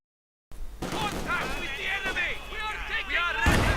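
Field gun and mortar fire thump and boom in a Company of Heroes 2 battle, with repeated artillery blasts and gunfire under a man's continuous, excited commentary.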